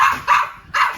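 A woman imitates a dog barking in a played video, three short, loud, yappy barks spaced evenly over one second, each sounding close.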